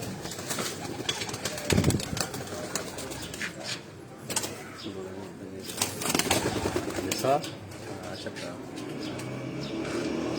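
Breeder pigeons in a cage coo softly, several low murmuring calls with occasional wing flaps, partly under someone talking nearby.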